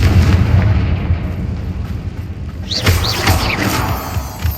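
A Confringo fire spell explodes in the Hogwarts Legacy video game, a loud booming blast with rumbling low end and a sharp crackling burst partway through, alone without talk.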